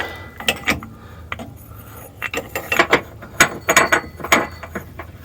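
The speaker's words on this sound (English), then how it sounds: "we're going to tighten this back up to the subframe with bushings inserted" Ratchet clicking in short, uneven bursts while tightening a bolt through new bushing inserts on a Subaru subframe, close and crisp with pauses between strokes.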